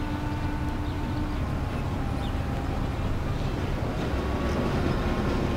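Trams roll through city streets in the video game Mafia, a steady, dense rail rumble and grinding hum that holds at an even level throughout, with no talk.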